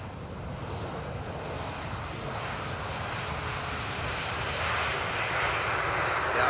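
An airliner touches down at Amsterdam Airport after a go-around, its engines a loud steady roar heard from outside that swells slightly toward the end.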